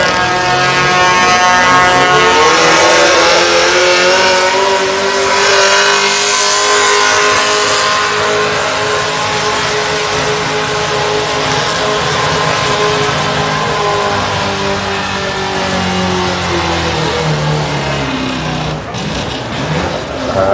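An AMC pulling truck's engine roars loudly at a county fair truck pull, a sustained high-revving howl whose pitch climbs and sweeps over about twenty seconds, close and dominant throughout.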